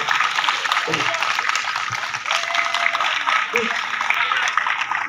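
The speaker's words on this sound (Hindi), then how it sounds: "तालियां बजा करके मुझे बताना" An audience at a poetry recitation breaks into applause, a thick, continuous patter of many hands that stays loud throughout, with a few brief voices or shouts rising out of the crowd.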